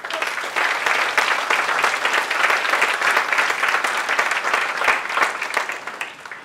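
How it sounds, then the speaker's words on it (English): Audience applause for a startup panel at a Startups Hong Kong anniversary event: steady, dense clapping that fills the room throughout, loud and close with no voices over it. "Please give them a big round of applause."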